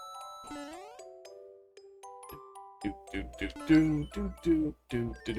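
Video game music from the Mario Maker 2 snow theme, with bright ringing bell chimes layered over melodic tones that turn into a busier rhythmic passage, fairly loud and without talking.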